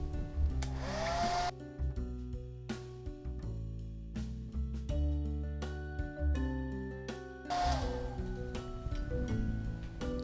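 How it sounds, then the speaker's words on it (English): A hair dryer blows steadily while drying glued-in hair weave tracks. The airflow roar is loudest at the start and end, and background music plays throughout. "So now we're going to blow dry the rest of the way to make sure that it is fully dry."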